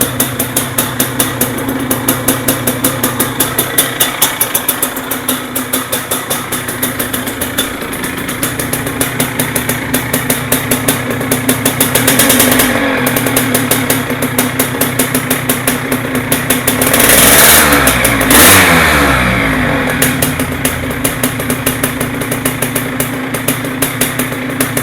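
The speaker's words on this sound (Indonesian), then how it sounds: "Suara dari Yamaha DT100 Enduro ini" A Yamaha DT100 Enduro motorcycle engine idles with a steady, buzzing two-stroke rhythm at close range, rising into short revs partway through before settling back to idle.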